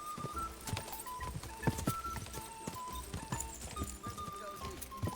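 Horse hooves clip-clop in a steady trotting rhythm in the medieval video game Kingdom Come: Deliverance II, close and fairly quiet, with other game sounds mixed underneath.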